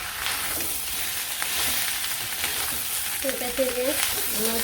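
Meat curry is fried and stirred in a pan, giving a loud, steady sizzling hiss throughout, with a brief faint voice near the end.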